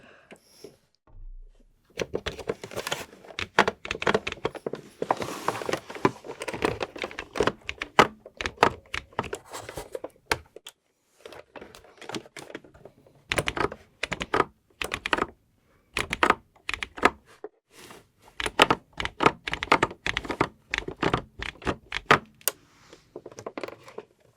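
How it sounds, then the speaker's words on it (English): Rapid clattering keystrokes of an electronic typewriter, close and steady, coming in bursts with brief pauses, plus occasional heavier thunks. "This is an electronic typewriter."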